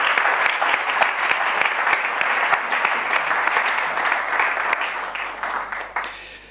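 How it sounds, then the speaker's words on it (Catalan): A large audience at a Catalan forum event gives a big, loud, sustained round of applause, thick steady clapping with distinct individual claps standing out, tapering off at the very end. "i ara sí un aplaudiment dels grans"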